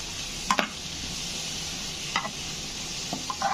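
A spoon scrapes through beetroot fry in a pan after salt is added, a steady sizzle underneath and a few sharp scraping strokes standing out, with no talking.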